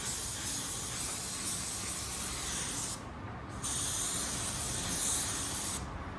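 A spray gun lays sealer and paint onto a panel in a spray booth, a steady close hiss broken by two brief pauses between passes.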